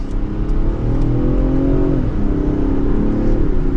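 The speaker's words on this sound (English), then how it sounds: "we'll drop it down to second gear again, give it a small acceleration" A 2024 Range Rover Sport Dynamic accelerates gently in second gear, its engine note rising steadily and dipping briefly at a shift before climbing again, heard from inside the cabin as a continuous close hum.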